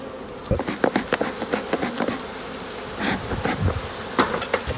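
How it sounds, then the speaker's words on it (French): Calm honeybees buzzing during a spring hive inspection, a dense close hum with individual bees darting past the microphone in short louder bursts, no talking. "C'est des abeilles super calmes, ça."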